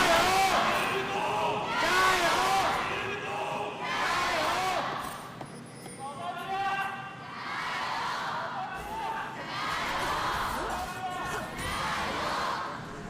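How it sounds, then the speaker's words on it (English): Lively arena crowd at an LPL League of Legends esports match between JDG and LGD, cheering and chanting in rising waves under a commentator's talk. "We got a lively crowd"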